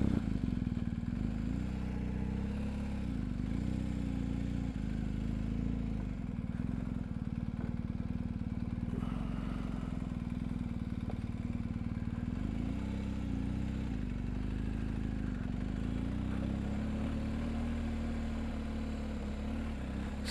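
A BMW R 1250 GSA motorcycle rides along with a steady, low engine drone that rises and falls slightly with throttle, continuous and fairly even throughout.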